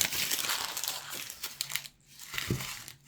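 A knife slices through notebook paper, making close, fairly quiet crinkly rasps and crunches in short bursts with brief pauses between the cuts.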